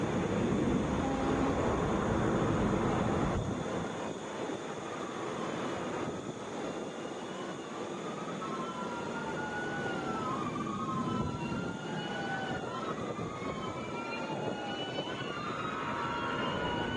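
Boeing 717 airliner at Atlanta airport, a sustained engine roar from a moderate distance, with sliding whistling tones weaving through the second half.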